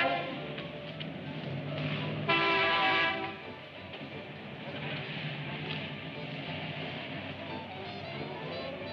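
Train arriving in an old 1940s film scene: steady rumbling rail noise with a brief loud horn blast partway through, continuous throughout with faint voices.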